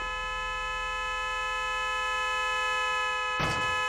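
A steady, flat car horn in BeamNG.drive blares continuously for several seconds, loud and close, then cuts off abruptly with a short burst of noise.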